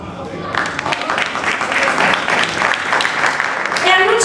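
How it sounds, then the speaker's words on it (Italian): Loud applause from a fashion week audience in Naples, dense clapping that rises in after a brief quiet start and holds steady to the end, with a voice heard over it. "Un forte applauso."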